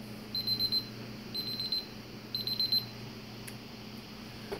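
Kitchen timer beeping in three quick bursts of rapid high electronic beeps, each separated by a short pause, over a faint steady hum in a quiet room.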